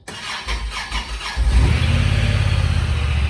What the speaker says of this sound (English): I'm gonna go ahead and crank this up and see y'all can see what it sounds like